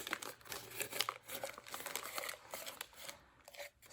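Newspaper is scrunched and folded by hand to shape a seedling pot, a close, soft crinkling and crumpling with quick rustling bursts and no talking.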